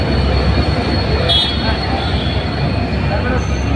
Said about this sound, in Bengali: দেখেন বিশাল বড় এক ট্রেন।